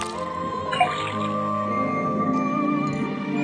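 In the puzzle game Detective Grimoire, liquid from a tapped faucet drips into a cauldron: a soft plip followed by gentle trickling and gurgling under a sustained musical drone.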